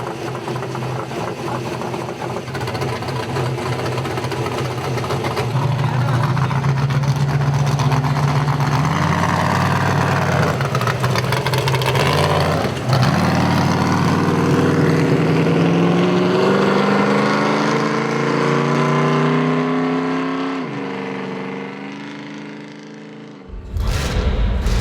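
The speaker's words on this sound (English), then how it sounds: "Be aware that the Jesse James vehicle is on its way up here." An off-road race vehicle driven by Jesse James roars loudly and continuously, engine revs rising and shifting as it approaches and passes, then drops away near the end.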